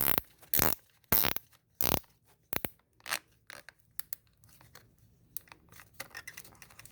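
Sharp cutter snips and crunchy clicks come in a rapid burst of close, loud bursts, then quieter scratching handling noises, as a zip tie end is clipped off during a 2013 Dodge Avenger 3.6 oil cooler replacement.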